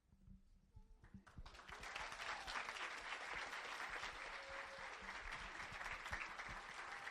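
A round of applause for winners at a regular public meeting, faint at first and then swelling into steady, sustained clapping from a seated crowd.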